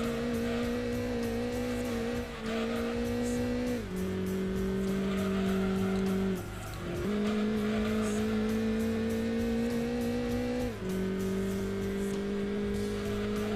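A Citroen Saxo in the video game Gran Turismo 2 races with a steady, close engine drone that shifts pitch in stepped gear changes as it accelerates, with faint tire noise and no talk.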